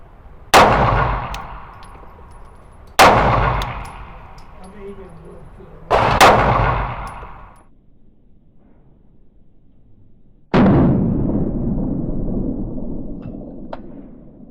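Four loud Glock 20 pistol shots at 7 yards on a range, each a sharp crack with a ringing decay, the first three spaced a few seconds apart and the last after a longer pause.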